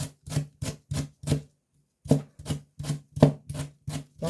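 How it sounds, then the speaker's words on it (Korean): A knife finely minces half a paprika on a cutting board, giving crisp, even chopping strokes: five, a short pause, then six more, close and clear with no talk. "저는 다른 사람과 달리 파프리카 반개를 다집니다"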